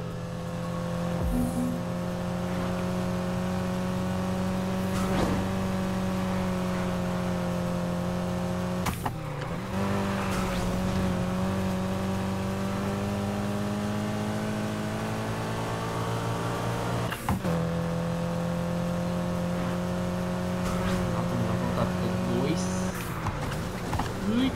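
In Need for Speed Heat, a custom Mitsubishi Evolution races with a sustained engine drone. Rising and falling pitch marks gear shifts, sharp crashes or hits break in a few times, and faint game voices sound underneath.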